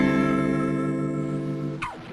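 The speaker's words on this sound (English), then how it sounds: "The digital is basically like a beat crusher" A sustained synth-like tone with harsh, gritty bit-crusher digital distortion from the RC-20 Retro Color plugin, ending in a quick swept glitch and a sharp click.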